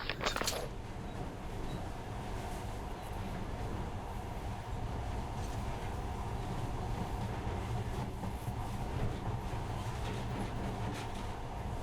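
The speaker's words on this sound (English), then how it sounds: "But now, this monorail seems magic, doesn't it?" A monorail train runs in the video game Metro: Last Light Redux, a continuous rumbling, clattering roll that stays steady and fairly loud throughout, opening with a brief sharp metallic clank.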